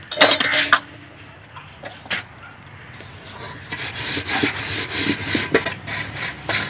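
Soot-blackened pots and dishes from a village kitchen without gas are scrubbed by hand, with bursts of close, rasping rubbing and a few metallic clinks, the scrubbing growing denser and more continuous toward the end.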